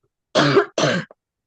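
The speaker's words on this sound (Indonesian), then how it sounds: "Oh loh, batuk." Two quick, forceful coughs close together, heard near and clear against silence.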